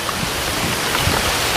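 Heavy rain pours steadily over a forest, a dense, continuous hiss of drops without pause, loud and close throughout.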